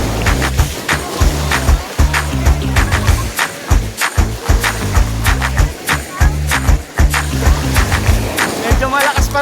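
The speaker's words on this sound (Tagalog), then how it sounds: "Medyo malakas pa rin yung alon guys." Strong ocean waves break and surge at a beach in Lobo, Batangas, heavy rolling crashes repeating in quick succession, loud and close, with wind noise over the water.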